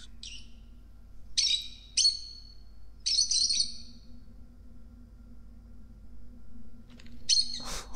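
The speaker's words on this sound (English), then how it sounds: "What is a parrot doing in there?" A parrot in the video game Virginia lets out several short, bright chirping calls spaced a second or so apart over a low steady hum, with a sharper burst near the end.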